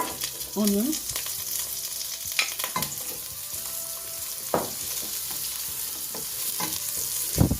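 Red onion frying in vegetable oil in a pot, a soft continuous sizzle under intermittent stirring clinks and scrapes, close and moderate in level, no talking.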